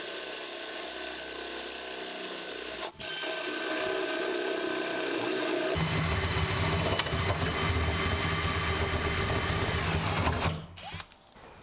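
A power drill with a hole bit bores a door knob hole in a raw interior door, running steadily and close with a whining motor, a brief break near three seconds and a pitch shift midway before it winds down.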